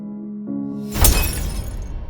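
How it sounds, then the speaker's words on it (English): An ornamental showpiece falls and shatters on a hallway floor in an animated horror story. Soft sustained tones give way to one sudden loud crash, its breaking scatter spreading and fading over the next second. "she heard a shattering noise in the hallway"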